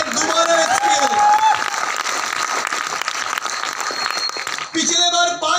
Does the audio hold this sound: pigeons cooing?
no